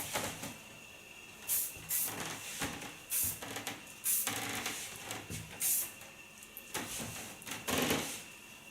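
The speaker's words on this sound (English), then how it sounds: "I'm really gonna fixate it with a hard hairspray." Hard hairspray misted onto styled hair in a salon, several short separate bursts of spray, close by, with light handling noises between them and no speech.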